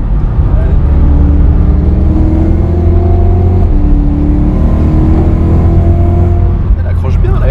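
An Audi RS3 accelerates out of a corner on a track, its engine a steady, loud, close drone rising in pitch, with people talking over it.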